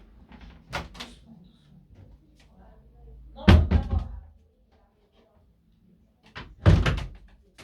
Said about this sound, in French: Ferme la porte alors.